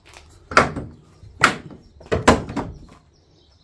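Trunk lid of a Nissan 240SX under restoration being handled and shut, giving three or four solid metallic thunks at close range with short gaps between them.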